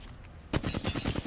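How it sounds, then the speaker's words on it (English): Rapid automatic gunfire in the video game Apex Legends bursts in after a quiet moment, a dense run of loud repeated shots carrying on to the end. "Shoot the Gibby. Shoot"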